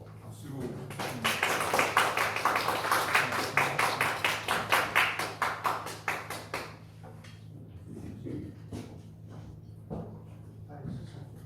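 Audience applause breaks out in a church hall for an introduced pastor, a dense run of claps that swells, then thins into scattered claps and fades after several seconds.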